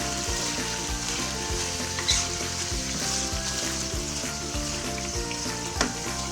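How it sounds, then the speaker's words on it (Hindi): Green chicken karahi fries in a hot pan with a loud, continuous sizzle, broken by regular scraping stirs that recur about every half second, close up and with no talk. "7 मिनट तक इसकी मैं ज़रा फ्राई कर लेती हूँ, 7 मिनट।"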